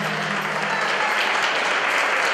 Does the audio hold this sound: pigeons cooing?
no